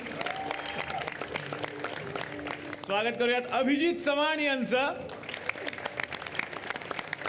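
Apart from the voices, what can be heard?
audience applause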